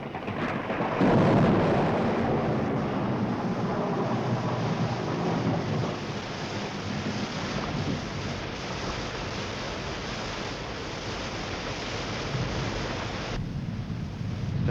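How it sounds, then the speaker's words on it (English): Heavy rain sets in with a deep rolling thunder rumble, a dense steady downpour hiss filling the whole stretch before easing toward the end, with no talk. "Starting to rain."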